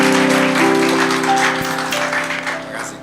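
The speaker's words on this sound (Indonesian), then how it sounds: "Kita sambut dengan tepuk tangan bagi kemuliaan Tuhan." Church congregation claps to welcome Pastor Rubin Adi at an evening service, a loud blended round of applause over a sustained hum that tapers off toward the end.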